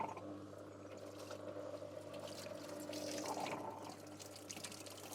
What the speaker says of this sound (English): So it's time for me to drain again.